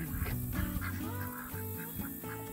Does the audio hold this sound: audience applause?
no